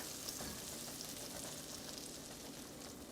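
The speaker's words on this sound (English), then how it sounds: "we've also got 6 tablespoons of all-purpose flour that we're going to start whisking into this butter" Butter sizzles steadily in a pan as six tablespoons of all-purpose flour are whisked in for a white chicken enchilada sauce, a continuous close hiss with faint stirring scrapes and no talking.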